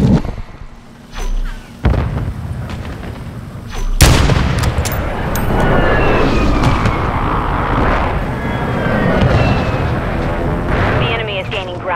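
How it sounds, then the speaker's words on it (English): Precision airstrike explosions in Call of Duty Modern Warfare 3 begin with scattered gunfire, then a heavy boom lands and long rumbling blasts roll on loudly to the end, with voices in between. "Friendly precision airstrike inbound."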